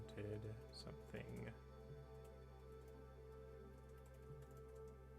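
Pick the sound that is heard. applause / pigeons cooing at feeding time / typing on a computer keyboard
typing on a computer keyboard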